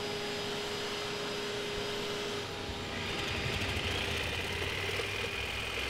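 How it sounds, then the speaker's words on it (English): A vacuum hose sucks yellow jacket wasps from a hole in a house wall, giving a loud, constant motor roar and airflow hiss close by with no speech. "start vacuuming up a few of the forgers that decided to come out of the hole"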